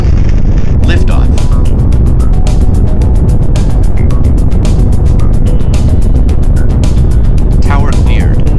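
Saturn V rocket engines roar at launch, a massive, heavily distorted, continuous rumble that stays at full loudness throughout. Radio crackle and faint voice traffic sit over the roar.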